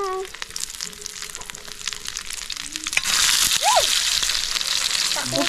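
Hotdogs sizzle loudly frying in a hot pan, the frying growing stronger partway through, with a few brief voices and clinks in the background.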